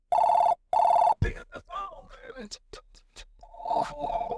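A phone call rings with two loud, evenly spaced electronic ring bursts, followed by scraping clicks and a voice answering, then a steady tone returns beneath talk.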